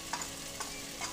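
Soft sizzle as tomato and chili powder are sautéed in a pan for a moong dal curry, with three gentle stirring scrapes at a steady pace, faint and close.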